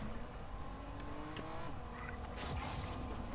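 A car in the Fortnite video game drives with a steady engine drone and brief tire squeals and skids, sitting fairly low and continuous across the whole stretch.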